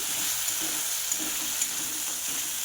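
Spice masala is stirred and fried in a pan, giving a steady high sizzle with soft periodic scrapes of the spoon repeating about every half second.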